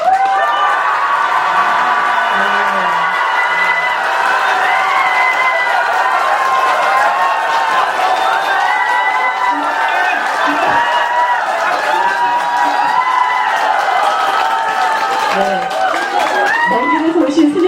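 At a Buddhist dharma talk, a temple crowd breaks into loud, sustained applause mixed with cheering shouts and excited voices, staying at full strength throughout.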